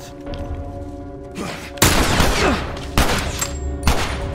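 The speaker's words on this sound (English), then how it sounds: "This is not the best weapon because you need to recharge it after every shot." Gunfire from The Last of Us Part II, a charged weapon firing several loud, sharp shots in quick succession with a rumbling tail, among other game sounds.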